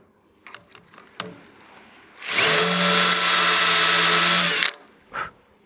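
A barrel trimmer in a power drill cuts a pen blank square to its brass tube, a steady whining buzz lasting a couple of seconds and loud and close, framed by small clicks and handling knocks.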